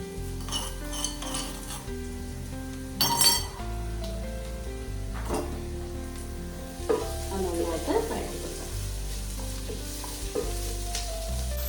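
Onions sautéing with crushed ginger garlic paste in a pan for prawn biryani: a close, continuous sizzle broken by a spoon scraping and clinking against the metal pan, with loud stirring knocks now and then.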